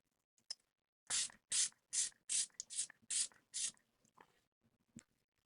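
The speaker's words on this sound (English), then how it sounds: "Fabulous sprayer, mister." A pump spray bottle of makeup setting spray fires about eight quick mists in a row, each a short bright hiss, close and crisp, followed by a few faint taps.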